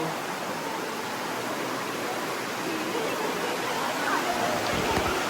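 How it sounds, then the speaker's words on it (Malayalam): Water rushes and flows steadily through the Marble Arch Caves, a dense, continuous broadband roar like a stream or small waterfall, close and constant throughout with no clear voices. "വെള്ളത്തിന്റെ നല്ല അരപ്പ് ശബ്ദം കേൾക്കാൻ പറ്റുന്നുണ്ട്"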